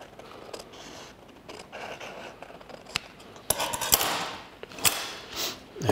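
Scissors snip through paper pieces for a sugarcraft cake, giving a series of close, crisp cuts and rustles that grow louder and busier toward the end, with no talking.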